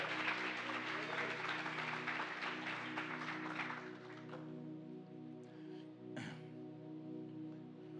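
A church congregation applauds during an evening worship service, a dense wash of clapping that thins out midway while sustained keyboard tones hold steady underneath.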